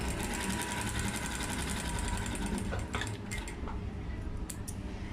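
A sewing machine runs steadily, stitching a frock seam in fabric with a fast, even mechanical whir. A few light clicks and taps come near the end.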